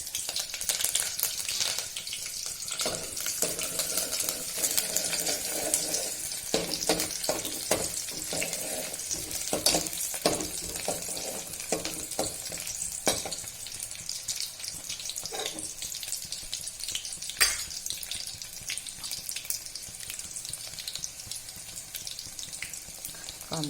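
A small finely chopped onion frying in a pan, a close continuous sizzle with irregular stirring scrapes and clicks running throughout, no speech.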